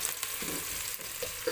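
Onions fry gently in a pan for a masala, a soft, close sizzle with stirring scrapes and a couple of light clicks, brief and without voices.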